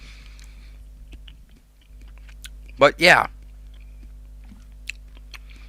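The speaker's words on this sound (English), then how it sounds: "that's me chewing nuts again" Nuts being chewed close to a microphone, giving two short loud crunching bursts in the middle of the clip, with a brief spoken phrase and a few faint clicks around them.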